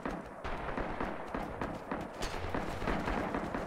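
Rapid gunfire in a multiplayer shooter, a steady stream of sharp cracking bursts and distant thuds, fairly quiet and continuous throughout.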